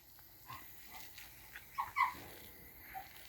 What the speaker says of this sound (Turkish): Türkiye Cumhuriyeti'nin en iyi köpeği, Türkiye baş köpeğinin yavruları.